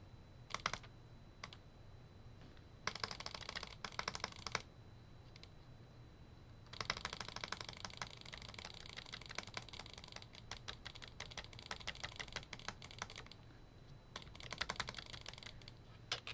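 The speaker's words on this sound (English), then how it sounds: "Yeah, that was me butterfly clicking." A computer mouse is butterfly clicked in quick, dense bursts of rapid clicking, separated by quiet gaps, with no talking.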